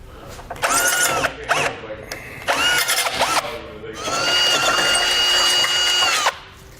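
A power drill whirs in several short bursts, then one longer sustained run as it bores a pilot hole into a 2014 Ford Edge while installing a base plate, close and fairly loud.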